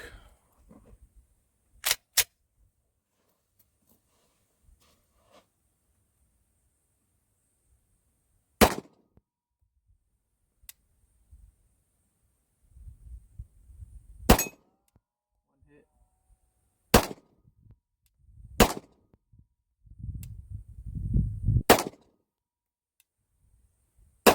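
Sharp shots from a Glock 17 Gen 5 pistol crack out about six times at irregular intervals, loud and close, with low handling noise and murmuring between them.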